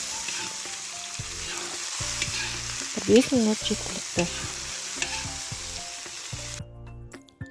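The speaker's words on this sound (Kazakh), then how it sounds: "Сосын ащы бұрышымызды салып, араластырып, тағы да қуырып алатын боламыз." Eggplant salad with sweet red and hot peppers frying and being stirred in a pan, a steady close sizzle broken by repeated scraping stirs, with a short spoken remark over it.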